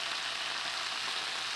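Swiss chard sizzling in a pan just after apple cider vinegar goes in, a steady, even hiss of frying that holds level throughout without talk.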